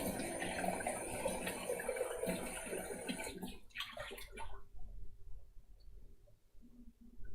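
Tap water runs steadily into a coffee mug being rinsed, a broad splashing gush for about three and a half seconds before it cuts off, leaving faint room noise and small clinks.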